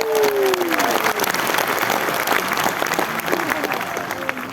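Loud, dense applause from a large crowd at the closing of a national political party working meeting, sustained throughout with a voice speaking briefly over its start.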